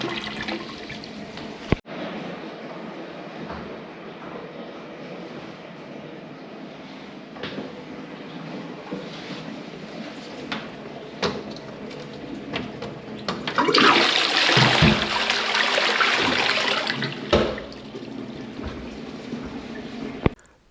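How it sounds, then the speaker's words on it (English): Toilet flushing in a commercial cubicle during work on a blocked toilet, a loud rushing surge of water swelling and gurgling for several seconds before draining away, with quieter water and clanks around it. "give the toilet a few flushes just in case I push the blockage a bit further down"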